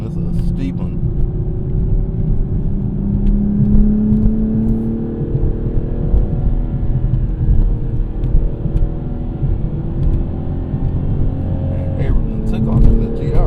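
Toyota GR Supra engine pulling hard with rising revs and quick, near-instant gear shifts, a steady close rumble and whir carried through the drive, with a voice talking over it.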